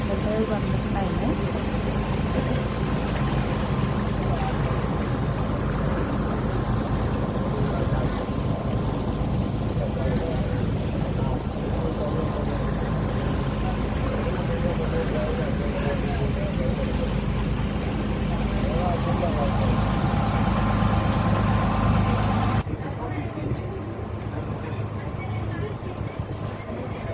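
A boat engine drones steadily on the Kochi backwaters, a continuous low rumble with water and wind noise that drops away abruptly near the end; people talk intermittently over it.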